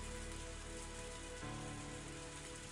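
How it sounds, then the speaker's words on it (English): Rain falling in a scene from the video game Higurashi When They Cry, a faint, steady hiss of drops on a surface with a low tonal hum shifting partway through, no voices. "Raindrops pelted my face without mercy"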